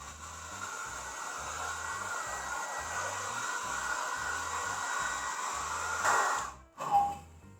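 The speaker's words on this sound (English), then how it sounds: "so we use the hair dryer to dry" Hair dryer blowing steadily to dry invisible ink on paper, a loud continuous whooshing hiss that holds for several seconds, then cuts off briefly near the end and starts again.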